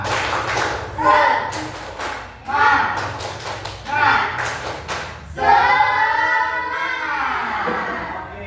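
A classroom of students performs the rhythmic 'tepuk semangat' spirit clap in Indonesia, with bursts of loud group clapping in repeated patterns, followed by voices chanting and talking over it.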